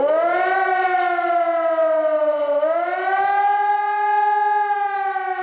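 A loud civil defense siren at a nuclear power plant wails steadily, its rising and falling tone dipping briefly midway before climbing again, with no voices.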